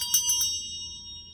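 Vintage hand bells with wooden handles ring close by, with three quick strikes in a row that leave a bright metallic tone fading out alone.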